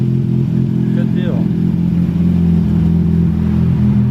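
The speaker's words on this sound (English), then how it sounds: "And that ghetto exhaust." A Mazda RX7 FC idles roughly through a loud aftermarket exhaust, a steady close rumbling drone with a brief rev blip near the start, while people talk over it.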